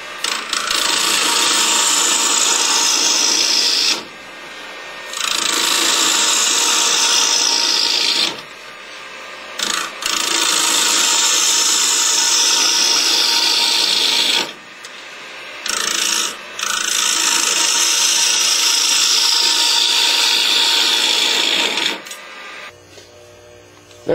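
A woodturning gouge cuts a bevel on a wooden bowl on a lathe, a loud continuous scraping rasp in several long passes separated by short pauses.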